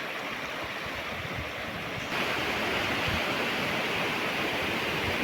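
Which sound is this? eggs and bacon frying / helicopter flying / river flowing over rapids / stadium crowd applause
river flowing over rapids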